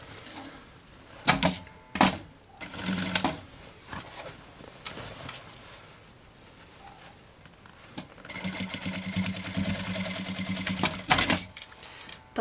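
A sewing machine stitches folded fabric strips for a bag made from milk cartons, running in several short bursts and then a longer continuous rattle, close and clear.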